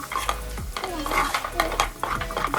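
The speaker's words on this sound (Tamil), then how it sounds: "அதனால் நல்லா நீங்கள் தொடர்ந்து கண்டினியூஸாக வதக்கிட்டே இருக்கணும்." A spoon scrapes and stirs a moong dal mixture being sautéed in a pan, with repeated scraping strokes over a soft sizzle, close and busy.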